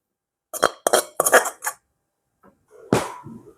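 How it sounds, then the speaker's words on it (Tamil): Curry scooped from a pan into a dish, a few close clinks and scrapes of a utensil against metal, then a pause and one more scraping clatter. "இந்த கறியை வந்து நாங்கள் ஒரு டிஷ்ஷில் வந்து எடுத்துடுவோம்."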